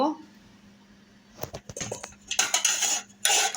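A utensil scrapes and clinks against a pot while stirring curd and milk, in bursts of stirring, with a few knocks and rattles.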